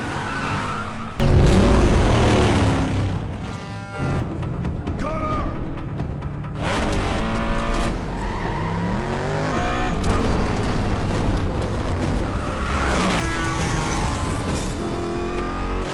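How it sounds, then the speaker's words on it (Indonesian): Cars in a brutal city-street chase from the film The Expendables roar past with revving engines, tire screeches and crashing impacts, loud and chaotic over a full stretch, with occasional voices. "Terjadilah kejar-kejaran mobil yang brutal abis di jalanan kota."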